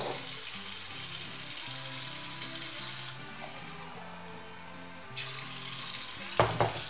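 Water pours steadily from a cup into a slow cooker for shredded beef tacos, a close, soft splashing stream that briefly pauses midway and then resumes with a final clink.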